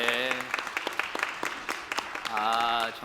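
A church congregation at a New Year prayer service gives applause to God, with rhythmic clapping mixed with voices speaking or calling out at the start and again near the end.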